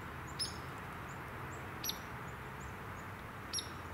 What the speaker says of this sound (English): I hear one bird.